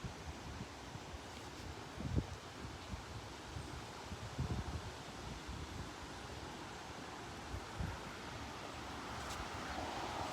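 Gusting wind building ahead of a severe thunderstorm, a steady soft rushing roar with a few brief buffets, fairly quiet and continuous with no voices.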